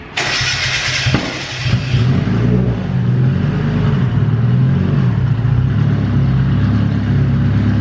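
A turbocharged Mazda Miata engine on a dyno opens with a loud burst, then holds a steady, rumbling mechanical drone close by.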